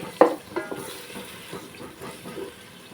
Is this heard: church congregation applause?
no